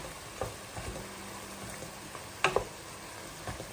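Supermarket meat browning in a frying pan, a quiet steady sizzle with a few soft pops and scraping clicks from stirring, close by and free of talking.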